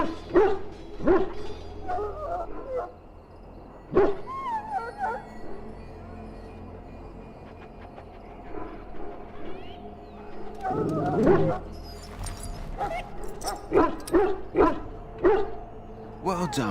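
A dog in the video game Dragon Age Origins barks, yips and whimpers in scattered bursts, close by, with a person speaking in between and other character sounds around.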